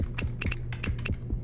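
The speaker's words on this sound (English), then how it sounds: "Start typing." Keys clatter on a computer keyboard during a trivia game show, a quick, uneven run of sharp, close clicks in small clusters over a faint steady hum.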